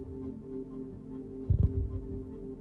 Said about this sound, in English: So his heartbeat is slow.